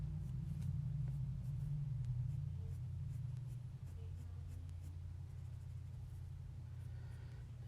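Pencil drawing and shading on paper, rendering red hair, gives a steady, soft scratchy stroking over a constant low rumble, with no talk.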